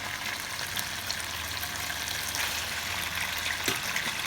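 Chicken frying in a pan with rigatoni pasta gives a steady, close sizzle with a watery hiss running throughout, with no voices over it.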